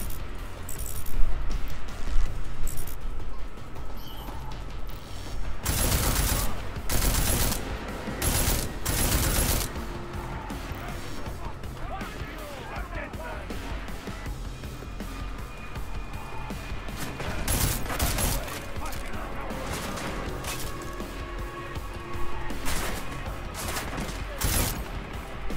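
Shotgun blasts in Deus Ex: Mankind Divided, several loud booming shots clustered in the first ten seconds and more later, over busy game ambience with some mechanical clinks.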